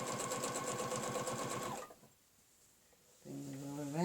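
A sewing machine stitches a curl along a quilting ruler, running loud and steady with a rapid needle rhythm, then goes quiet for a moment before starting up again near the end.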